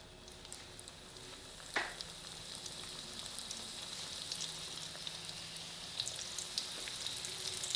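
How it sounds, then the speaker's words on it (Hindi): Vegetable ring samosas fry over a low flame in hot oil, a faint, steady crackling sizzle with one brief louder splash or tap early on, heard without talk. "बस इतना ही डालें जो आसानी से फ्राई हो जाए।"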